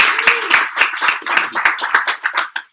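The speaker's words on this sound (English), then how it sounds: "Once again, let's give a round of applause to Chief." Audience at a data visualization meetup in Washington DC claps in a short burst of applause, with individual claps distinct and rhythmic throughout, fading out near the end.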